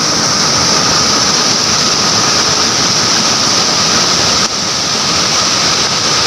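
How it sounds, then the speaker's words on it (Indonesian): Jambur Latong waterfall in Aceh Tenggara roars as a constant, loud, broadband rush of falling water, unbroken and steady throughout with no voices. "inilah dia air terjun Campur Latong"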